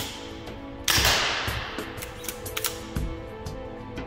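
A Milsig M79A2 Nerf AR-15 style blaster fires one sharp snapping shot, followed by a few softer clicks and taps of handling, close and clear.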